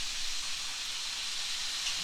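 Chicken wings fry in hot oil with a steady, faint hiss and soft crackle that carries on evenly throughout.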